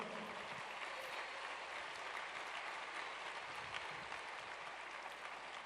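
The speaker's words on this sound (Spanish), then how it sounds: "démosle un fuerte aplauso al Señor" A church congregation applauds continuously, with dense, steady clapping that fills the space and little else audible.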